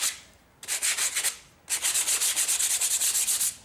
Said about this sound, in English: Just going to use some sandpaper to clean up the crummy edges here